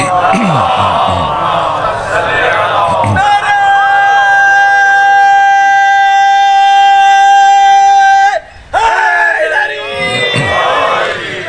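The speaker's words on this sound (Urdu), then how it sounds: "ابھی نعرے بلند ہوئے اور انہوں نے کہا المدد المدد یا رضا، یا رضا۔" A crowd at a Muharram majlis chants religious slogans in unison to Imam Ali Raza, with loud massed voices, a sustained held tone in the middle and a brief break before the chant resumes.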